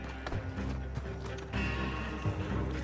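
Coach horses gallop in Red Dead Redemption 2, a steady clip-clop of hooves carrying on throughout over a low rumble of wheels and game ambience, growing slightly louder partway through.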